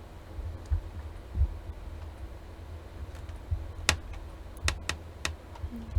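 Typing on a computer keyboard: a handful of separate, sharp key taps spread unevenly over several seconds against a quiet room hum, close and moderately loud.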